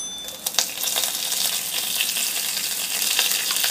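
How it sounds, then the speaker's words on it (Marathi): Curry leaves and green chillies sizzle in hot oil for fasting varai rice, a steady close crackling hiss with a few sharper pops near the start. "मिरची थोडी परतवून झाल्यावर यामध्ये कढीपत्ता घालायचा आहे।"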